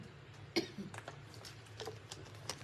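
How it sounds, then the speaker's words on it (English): A few quiet, scattered coughs and throat sounds spread over a couple of seconds, soft and close, with short pauses between them. "I'm about to have a little coughing fit."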